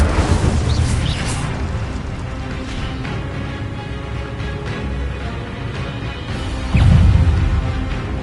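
An Incendio fire spell from Hogwarts Legacy erupts in a loud whooshing blast, followed by a crackling burning roar, with a second heavy burst near the end over continuous game ambience.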